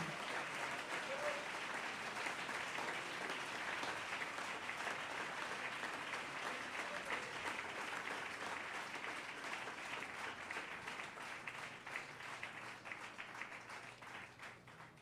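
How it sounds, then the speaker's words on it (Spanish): Church congregation applauding during an evening service, a steady, dense wash of clapping held for a long stretch, somewhat distant and softly fading near the end. "Démosle un aplauso al Señor en esta noche."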